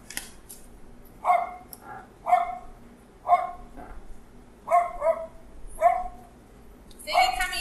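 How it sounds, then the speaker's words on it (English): A dog barks repeatedly, about six sharp barks spaced roughly a second apart, fairly close, with a voice at the end. "Hold on, why is it barking?"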